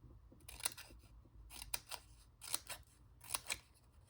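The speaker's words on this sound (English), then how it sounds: "I should have used my fringe scissors. Would have been quicker, but this is fine." Scissors snip through paper scraps in a string of crisp, close cuts that come in small pairs and clusters, quiet overall against a faint low hum.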